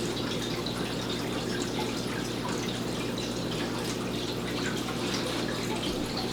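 Water trickles and bubbles steadily as an aquarium powerhead pulls water through a homemade sponge filter in a guppy tank, a continuous close wash of dripping and gurgling under a low motor hum, with no talking.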